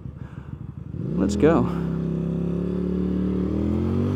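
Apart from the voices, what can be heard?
QJMOTOR SRV300S cruiser motorcycle accelerating in first gear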